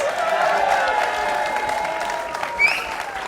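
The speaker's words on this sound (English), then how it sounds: "it would be amazing if we could all give the bride a big round of applause" Wedding guests give the bride a round of applause, a short burst of clapping and crowd cheering with a whoop near the end.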